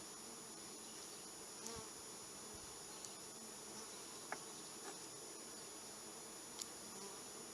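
Honey bees buzz around an open hive during a hive inspection, a soft continuous drone with individual bees flying close past now and then, quiet and without speech.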